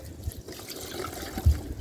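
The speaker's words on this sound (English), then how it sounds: "Put the water in." Water trickles and splashes as it is poured into a container outdoors in cold, snowy weather, a brief close pour with a couple of louder splashes.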